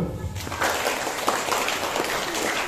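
Schoolchildren clap together at an Isra Mi'raj school gathering in an Indonesian elementary school, a loud dense burst of applause that starts abruptly and continues steadily to the end.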